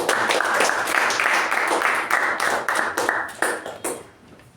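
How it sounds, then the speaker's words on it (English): Audience applause for a Toastmaster after an evaluation at a Toastmasters club meeting: dense, steady clapping from a room of people that holds strong and then thins out toward the end. "Round of applause to Toastmaster Ujwal"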